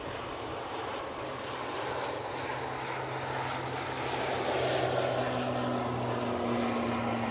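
An airplane departing Manchester Airport for Belfast, with a steady broadband engine roar and a propeller drone that swells slightly louder toward the end. No one speaks.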